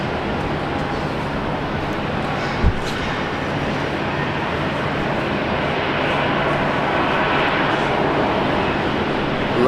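A Boeing 777-200 airliner at Brisbane Airport, a steady broadband jet rumble from some distance that builds slightly toward the end, with one brief knock early on.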